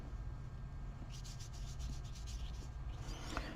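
A paintbrush scrubs light Blue Turquoise watercolor onto paper in quick, faint rasping strokes, a soft rhythmic rubbing over a low steady background hum.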